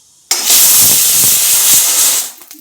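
A pressure cooker cooking rice lets out a loud, steady hissing steam whistle. The burst lasts about two seconds and sounds close, with nothing else audible, before it cuts off abruptly.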